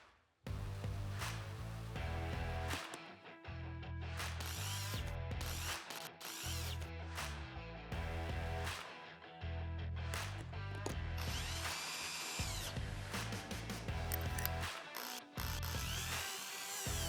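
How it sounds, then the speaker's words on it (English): A ratcheting driver turns Phillips screws into the underside of a Honda Pilot steering column. Close, clicky ratchet bursts repeat in short runs separated by brief pauses, with no talking. "Finally, reinstall the 3 Phillips screws on the bottom of the steering column."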